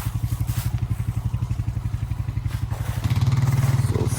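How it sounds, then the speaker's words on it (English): ATV engine straining as it pulls a damaged fence by a chain on a goat farm, a steady throbbing putter that rises louder and deeper near the end as the load takes up, with faint clatter over it. "I'm gonna hook the chain up to the back of your ATV and we're gonna pull the fence"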